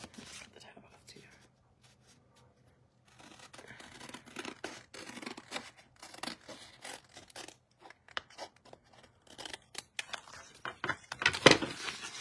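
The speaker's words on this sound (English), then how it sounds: "Let's cut the top off too." Scissors snipping paper to trim a bullet journal planner layout, a series of close, crisp cuts and rustles that grow busier toward the end, with a quiet voice talking softly alongside.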